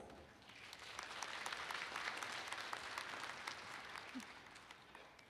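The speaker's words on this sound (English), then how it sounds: "Please give them a round of applause." Audience applause at a European Association for the Study of the Liver opening ceremony, a steady, dense wash of clapping that holds at moderate volume for about five seconds.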